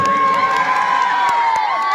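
A crowd at a welcome ceremony cheers and shouts loudly in a dense, continuous wash of voices, with a high sustained whoop or whistle running through it.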